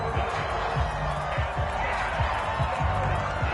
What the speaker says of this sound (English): This red zone is where the Seahawk crowd really makes it tough for an offense to communicate.